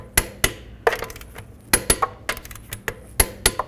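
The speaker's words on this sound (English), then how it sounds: "Torque your lug nuts to 110 foot-pounds." A torque wrench clicking as lug nuts are tightened on a 2006-14 Dodge Charger rear wheel, a run of sharp metallic clicks and clanks in irregular bursts, close and clear.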